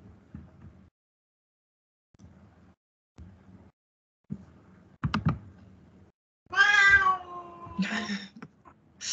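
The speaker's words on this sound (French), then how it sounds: "C'est le chat qui veut poser des questions." A cat meows loudly near a microphone during an online training session, giving a couple of drawn-out cries near the end, after scattered soft keyboard typing and clicks.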